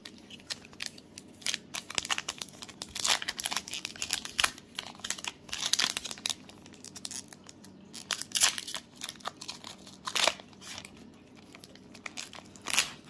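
Trading card packs being torn open, the foil wrappers crinkling and crackling in a steady run of close, sharp bursts with brief pauses, no talking.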